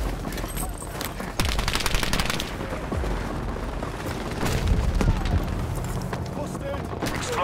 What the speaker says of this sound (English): Lobbing grenade!